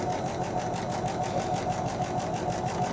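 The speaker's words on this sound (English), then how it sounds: "take this over to the sewing machine and stitch right on top of that little dashed line on the pattern" A sewing machine stitching a tiny foundation-paper-pieced flying geese quilt block along the pattern line, a steady fast mechanical whir and rapid needle chatter running without pause, close and fairly loud.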